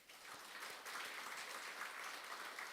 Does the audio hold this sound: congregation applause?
yes